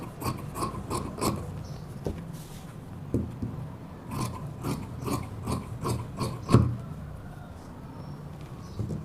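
Scissors cut through fabric for a chudidar pant in a series of short, close, crisp snips, some in quick clusters and others spaced apart, against a quiet background.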